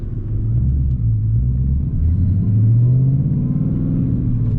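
A car engine rumbles low and steady while driving, close and continuous, its pitch swelling and easing slightly as the car speeds up.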